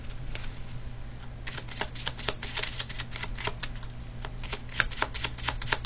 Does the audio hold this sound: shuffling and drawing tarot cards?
yes